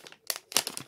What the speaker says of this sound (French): Mais comme je vais l'utiliser, je suis obligé de déballer.